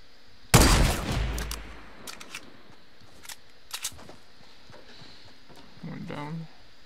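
A single loud gunshot bursts out in Fortnite's Sniper Shootout mode, then fades into a trailing echo, followed by a few sharp, quieter clicks and pops and a short low rumble near the end.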